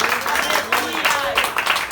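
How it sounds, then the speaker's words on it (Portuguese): A congregation claps in praise at an outdoor street church service, a steady run of brisk, loud claps while a voice carries on over it. "Ó, pode aplaudir o Senhor porque Ele merece."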